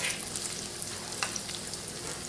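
Chicken breast sizzles and crackles steadily in hot ghee in a pan, close and fairly loud, with scattered pops and no voices.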